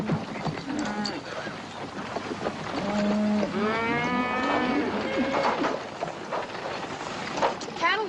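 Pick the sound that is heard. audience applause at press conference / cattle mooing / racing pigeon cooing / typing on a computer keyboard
cattle mooing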